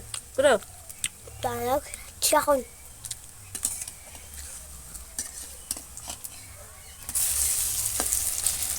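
Coriander leaf fritters frying in hot oil and being turned over, a soft, steady sizzle with scrapes and clinks from a utensil. A person speaks over the opening seconds.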